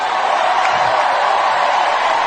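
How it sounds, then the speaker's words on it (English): A crowd cheers and roars for Sarah McBride at a podium, a steady, dense wash of applause and whoops held at full level without a break. "And the crowd goes crazy"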